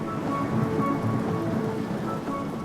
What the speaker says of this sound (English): Tropical rain.